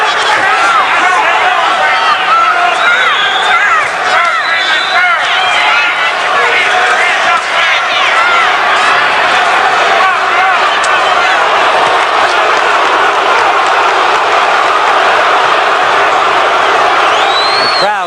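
Partisan crowd of nearly 12,000 at a lightweight title boxing fight, loud, continuous cheering and chanting that fills the arena, with a commentator talking over it.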